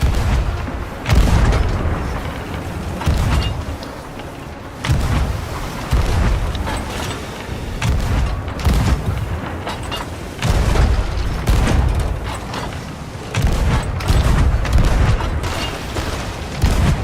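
Ship cannons firing in the pirate video game Sea of Thieves, a loud sustained barrage of booming blasts and rumbling impacts repeating every second or two, dense and close.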